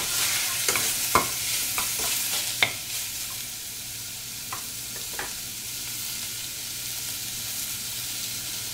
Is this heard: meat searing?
yes